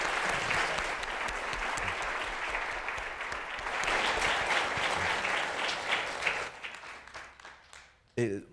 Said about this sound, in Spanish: Pido un aplauso para nuestro invitado.